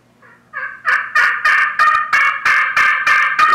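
A Quaker Boy crystal slate turkey call, worked with a striker, gives a series of about ten raspy, yelping hen-turkey notes in a steady rhythm, loud and close, with no talking.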